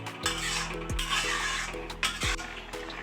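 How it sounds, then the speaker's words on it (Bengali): Carrot halwa with milk is stirred in a pot over high flame, a spoon scraping and knocking the pot a few times over a soft bubbling hiss, close. "সমানে নাড়াচাড়া করব, নাহলে তলায় লেগে যাবে।"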